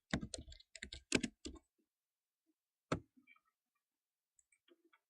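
Quick bursts of computer keystrokes typing a search, clustered clicks in the first second and a half, then a lone tap and a few faint scattered clicks, close and quiet with no voices.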